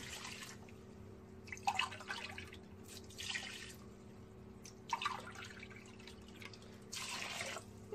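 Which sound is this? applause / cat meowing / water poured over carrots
water poured over carrots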